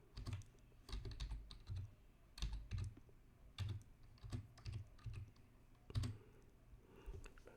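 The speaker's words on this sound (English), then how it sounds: "this is where it asks you to enter in your password again" Password being typed on a computer keyboard while logging into trading software, a steady run of crisp key clicks in quick irregular bursts, close and fairly quiet, with no talking.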